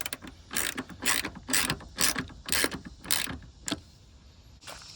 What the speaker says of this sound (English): So now just tighten these up and do the same to the other side.